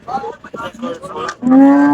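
A cow gives one loud, close, drawn-out moo near the end, after a stretch of scattered background noise and murmuring, at a cattle market in Arifwala.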